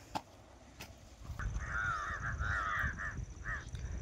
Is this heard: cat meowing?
no